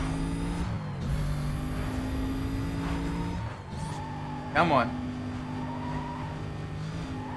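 A heavily modified wide-body Carrera GT with roof scoops races in Need for Speed Most Wanted, its engine droning and shifting pitch as tires squeal in short bursts, while a player briefly speaks over the game noise.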